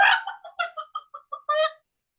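A voice imitates chickens clucking, with a long squawk at the start, a quick run of short clucks and a longer cackle to finish. Close and clear.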